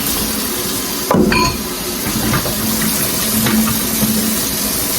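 Warm soapy water being stirred and splashed by hand in a basin during washing, a steady close watery swish with one brief louder splash near the start and soft sloshing throughout.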